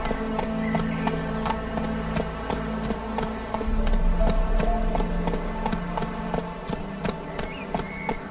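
Horse hooves gallop in Witcher 3, a fast, regular clip-clop of sharp thuds that stays close and loud throughout, over a low ambient rumble.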